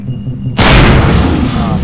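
In Half-Life 2 running in Garry's Mod, a loud game explosion bursts suddenly after a quiet moment and rumbles on with a broad, roaring decay.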